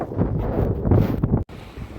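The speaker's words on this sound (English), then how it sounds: "it's a windy day today" Strong wind gusting across the microphone outdoors at a brickwork building site, a loud continuous buffeting roar with one brief dropout near the end.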